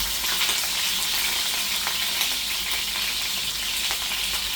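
A pot roast sears fat side down in hot oil in a pan, giving a steady, dense, crackling sizzle with no talking.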